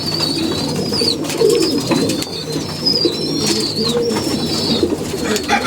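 Pigeons coo softly and repeatedly nearby, low throaty calls over a light background hiss, with a few thin high chirps mixed in.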